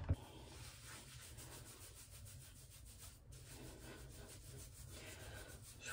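Keratin shampoo being rubbed into hair and scalp, a steady close-up scrubbing friction that runs continuously without pause and with no talking.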